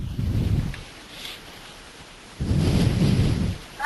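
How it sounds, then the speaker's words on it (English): Rumbling thunderstorm noise over a webinar call line, two loud low bursts of thunder and rain a second or so apart with quieter hiss between them, no talking. "It sounded like you stepped into a storm"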